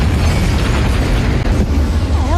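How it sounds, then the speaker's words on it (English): A loud, rumbling explosion roars throughout, deep and sustained with crackling debris, nearly constant in intensity. "And one more explosion for the road."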